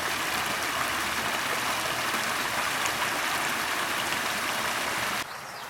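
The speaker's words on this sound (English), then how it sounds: "You can see right here how the pond is overflowing." Water spills over the edge of a flooded pond during heavy rain in rural Missouri, a constant close rushing wash that cuts off abruptly near the end.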